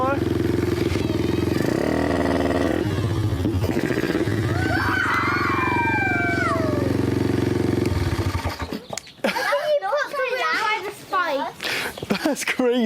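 A restored pit bike engine idles loud and steady as it warms up, then cuts out partway; afterward scattered background noise and voices follow.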